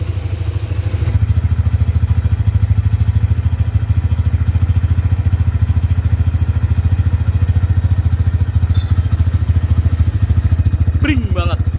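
A low-mileage 2010 Kawasaki Barong-style motorcycle engine is started and runs with a steady, dense, rapid idle thrum close to the mic, with a brief high whine near the end.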